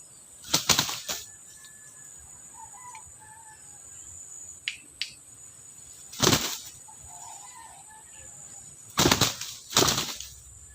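Wild junglefowl flapping its wings during a training session, loud close bursts of wingbeats repeated several times against a quiet outdoor background with insects.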